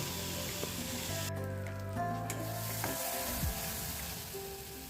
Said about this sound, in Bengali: এখানে মশলাটা কষিয়ে নিচ্ছি এখানে আছে জিরা আদা লঙ্কা পেঁয়াজ রসুন সব একসাথে পেস্ট করে নিয়েছি